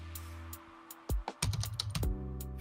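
Keys clatter on a computer keyboard as a command is typed, a short burst of close, quick clicks and taps over a quiet background, with no talk.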